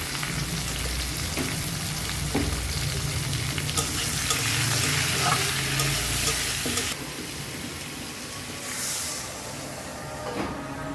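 Finely chopped mangoes with salt and turmeric cooking in a pan, a steady hissing sizzle broken by occasional stirring knocks, easing slightly in level partway through.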